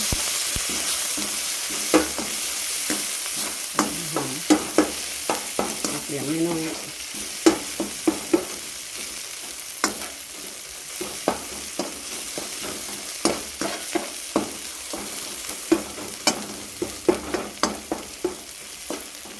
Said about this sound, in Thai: ตั้ง น้ำมันมันห่อนละเดี๋ยวเราก็ใส่กระเทียมลงไปพัด พัดมันหอม